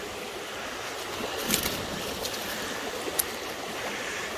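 Water flows in a creek where someone is hunting for gold and artifacts. The steady, soft, hissing rush is even throughout, with a couple of faint splashes or clicks.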